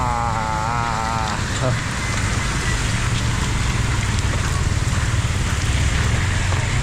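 Steady, dense hiss of heavy rain pours down throughout in Samut Sakhon, Thailand, with a brief warbling tone near the start.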